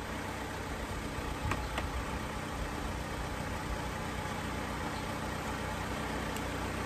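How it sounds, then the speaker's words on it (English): A car engine idling to supply power on an off-grid homestead, a steady low hum with faint clicks, even and unbroken, no voices. "I turn the car on first to, just to make sure that I have enough power running."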